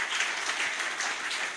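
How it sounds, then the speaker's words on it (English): Audience clapping at a camp gathering, a short burst of steady applause from many hands, fairly close and without talk. "Akis, you clap for people, guys."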